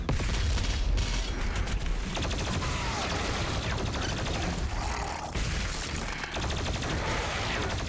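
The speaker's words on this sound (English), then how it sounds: "Plasma gun's so good, dude." Plasma gun in Doom Eternal firing rapid continuous bursts amid dense combat noise, a loud crackling volley that runs nearly unbroken with brief pauses, no talking.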